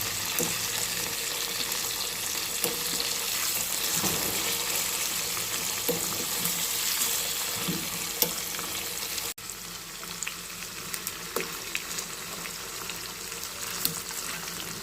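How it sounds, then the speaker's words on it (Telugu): Chicken pieces fry in a pan with a continuous, even sizzle, joined by occasional clicks and scrapes of stirring. The sound stays moderately quiet and steady throughout. "చికెన్ వేసాక 5 మినిట్స్ ఉడకనివ్వండి."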